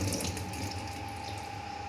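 Tap water runs steadily into a sink while dishes are washed in a home kitchen, a close, constant splashing flow with no talk.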